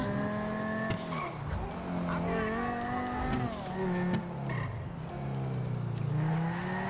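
A car driven in a video game has its engine rising and falling in pitch as it revs and shifts, with a few sharp squeals and thuds over a steady moderate roar.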